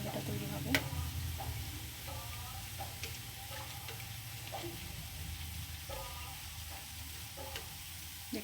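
Boondi droplets sizzle and fry steadily in hot oil over a raised flame, a continuous close crackle with faint clicks and light stirring sounds throughout.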